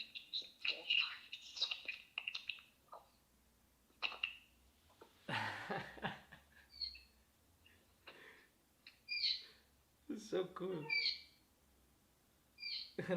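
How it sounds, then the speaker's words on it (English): A bird calls outdoors in short, repeated chirping bursts, fairly close and separated by quiet pauses, while a person says a couple of words softly in between. "The bird, it was there calling me all the time"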